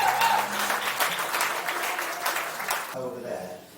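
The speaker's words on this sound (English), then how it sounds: "can we give them a good round of applause as thanks for all this" A room full of people at a Rotary Club event applauds steadily for a few seconds, the clapping fading out abruptly near the end.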